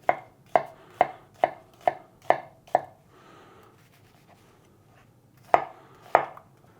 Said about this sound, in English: And now I'm just chopping up the ingredients to make sure everything is prepared the way we want it.